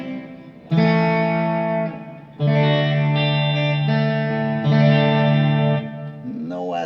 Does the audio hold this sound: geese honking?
no